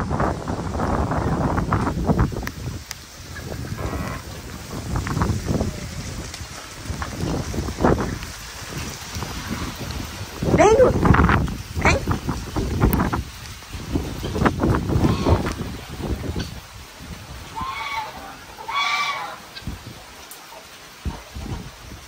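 Wind and rain set in during a sudden storm on a rural farm, with broadband gusting noise and microphone buffeting and scattered drops rising and falling for about twenty seconds.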